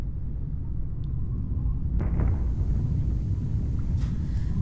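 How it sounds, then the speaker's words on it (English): Shield volcano eruption in a Tinybop The Earth app: a steady low rumble with a soft whooshing swell partway through, moderately loud and continuous, no talk. "Let's see what happens when this volcano explodes."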